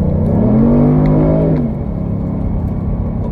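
A rear-wheel-drive 2022 Kia Stinger accelerates hard, its engine note climbing loudly and steadily through the revs before easing into a lower, sustained drone after a shift.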